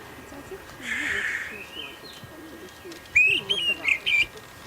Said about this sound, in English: I just want to find out if we've got a Karakan thrush